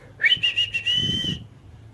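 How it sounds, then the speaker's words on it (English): A baby gives a single clear whistled note, slightly wavering, sustained for about a second, close by, followed by a soft low thump. "make me hear your whistle"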